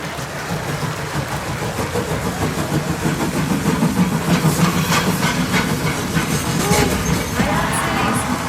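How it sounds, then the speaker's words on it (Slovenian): Local passenger train arriving at a station track, a continuous loud rumble and hiss of wheels and engine building steadily, with scattered higher squeals over the noise and no talk. "Lokalni potniški vlak, ki nadaljuje vožnjo v Ljubljano, prihaja na drugi tir."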